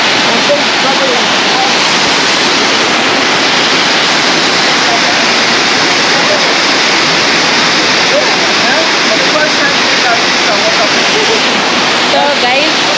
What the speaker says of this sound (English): the water is flowing down there below